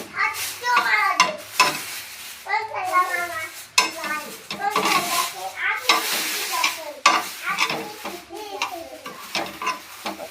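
Amla and coconut dry-roasting in a pan, with repeated scraping and rustling strokes of a spatula, while a voice talks over much of the stirring.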